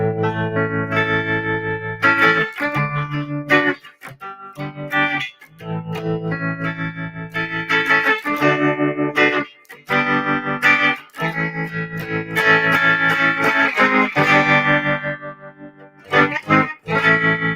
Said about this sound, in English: Now with the reverb added.